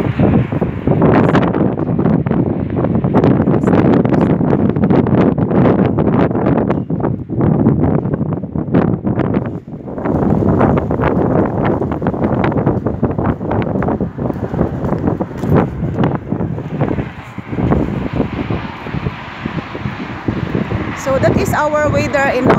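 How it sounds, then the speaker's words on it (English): Strong spring wind blowing outdoors in Austria, buffeting the microphone in loud, continuous roaring gusts throughout, with a person talking over it. "Look at the wind is really very strong now."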